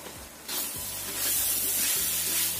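Jicama stir-fries in a pan with a loud hissing sizzle that swells as the ingredients hit the hot surface, overlaid by a low steady hum, close with no talking.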